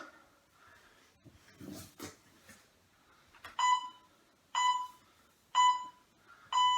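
A workout interval timer sounds a run of short electronic beeps, four evenly spaced clear tones in the second half, following some quieter shuffling and movement noise.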